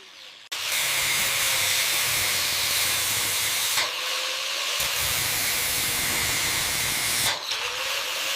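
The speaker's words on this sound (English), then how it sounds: "the wire wheel makes quick work of this old paint and filler, revealing the bare metal underneath" Wire wheel stripping old paint and filler from a mini Harley chopper's motorcycle fuel tank down to bare metal: a loud, steady, hissing abrasive whir starts abruptly and runs continuously, with a few short breaks and shifts, alone without talk.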